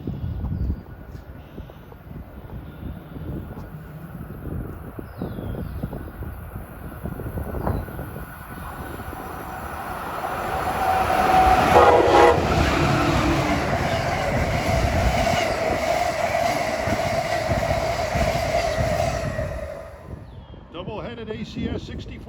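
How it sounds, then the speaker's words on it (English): A northbound Amtrak train pulled by two ACS-64 electric locomotives approaches and roars past in New Jersey, building from distant rumble to loud rail clatter and wind, with a brief horn note midway. "Looks like we got a northbound Amtrak approaching"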